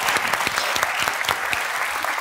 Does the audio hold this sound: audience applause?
yes